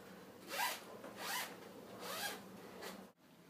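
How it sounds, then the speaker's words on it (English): The zipper on a Woolino sleep bag with an organic cotton outer is drawn in four short rasping strokes. The sound is close and quiet, followed by a brief stop. "And then for zipping it up."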